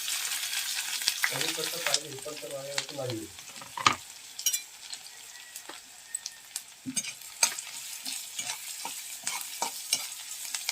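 Onion and green chili drop into hot oil with cumin and garlic in a pan over a wood-fired stove for kande pohe. A bright sizzle follows, then scattered scraping and clinking stirring strokes, close and moderately loud.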